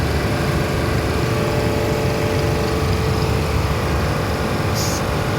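A vacuum pump running on a chiller compressor machine, giving a steady, loud mechanical drone with a constant hum and no change in pitch throughout.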